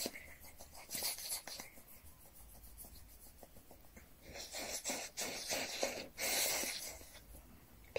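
Slow, drawn-out breaths during a guided breathing meditation, soft and airy, heard up close with no talking, swelling in gentle waves as the air is pushed out.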